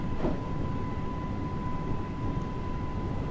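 A train passing in Train Sim World 2 on the Isle of Wight, a steady loud rumble with a constant tonal whine, close and unbroken throughout, with no voices.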